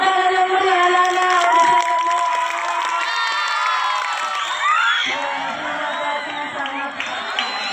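Students at a junior high school council candidate event in 2024 cheer and shout together, a loud, sustained roar of young voices with whoops that eases slightly toward the end, with an announcer's voice mixed in.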